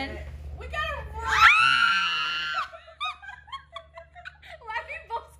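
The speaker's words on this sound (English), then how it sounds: "Why are we both screaming?" Two women scream together in excited, high-pitched squeals that peak loud and close, then break off into animated chatter and laughter.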